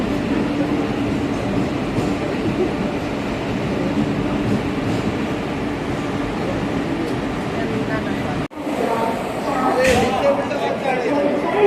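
A train at the railway station in Kozhikode, with a steady, loud rumble of rolling stock and platform noise and muffled voices. The sound briefly drops out near the end, then resumes.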